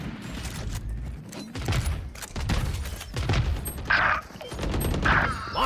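A missile barrage ability fires during a Valorant match, with a burst of rapid mechanical launches and bangs, followed by a couple of sharper whooshing impacts, loud and busy with game noise.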